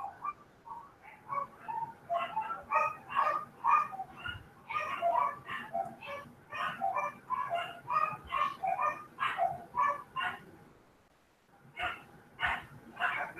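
A dog barks repeatedly and rapidly in the distance, sustained volleys of sharp yaps with a short pause before resuming, heard faintly behind an online meeting.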